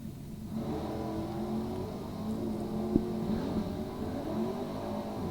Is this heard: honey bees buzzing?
no